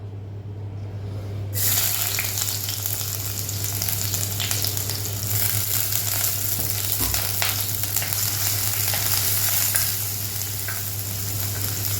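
Ginger, garlic, green chillies and onion sauté in a hot pan, a close, steady sizzle that starts abruptly and carries on evenly with a faint low hum beneath, no voices.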